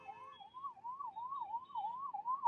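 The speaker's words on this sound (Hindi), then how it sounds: "एम्बुलेंस आ गई, एम्बुलेंस।" An ambulance siren wails in a steady rising-and-falling cycle amid traffic congestion near Valsad, India, fairly faint and heard on its own.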